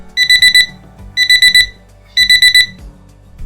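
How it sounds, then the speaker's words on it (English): A magnetic kitchen timer gives sharp electronic beeps in three quick bursts of four, repeating at a steady rhythm, loud and close. "I like using this magnetic timer that continuously beeps for 3 minutes"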